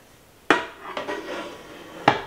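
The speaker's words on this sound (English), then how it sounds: "So you've got your saute pan, right? It also comes with a frying pan," Caraway ceramic cookware, a saute pan and a frying pan, being handled, with a few distinct metallic clanks and knocks as the pans are set down close by.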